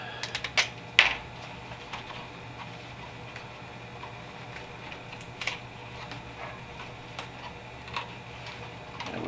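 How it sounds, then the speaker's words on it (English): Old, deteriorated cardboard on a LEGO Samsonite set 711 box is peeled up by hand, giving faint, scattered crackles and a few sharper ticks and snaps over a quiet background. "Just trying to peel the cardboard up."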